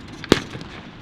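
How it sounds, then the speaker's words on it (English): One sharp, loud blast from a Mark IV tank gun firing at a machine gun post during a WW1 battle reenactment, a single report at some distance with a brief tail and no talk. "The Mark IV has scored a hit on the machine gun post."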